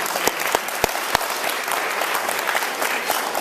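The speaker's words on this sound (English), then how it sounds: "I'd like to have a round of applause for Ian" A room of brunch guests at a political candidates' event gives a round of applause, dense clapping with a few sharp, close individual claps standing out near the start, and no speech over it.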